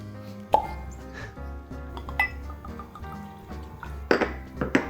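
A Glendronach whisky bottle is uncorked with one sharp, close pop, followed later by a few faint glassy clinks and quiet handling.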